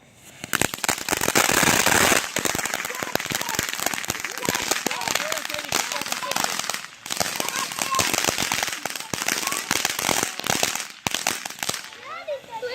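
Fourth of July fireworks explode loudly and almost without pause for about twelve seconds: dense, sharp cracks and booms overlap into a continuous crackling barrage, with a short lull partway through before the bursts resume.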